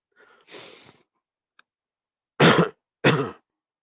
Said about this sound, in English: Under my bed, I heard him clear his throat.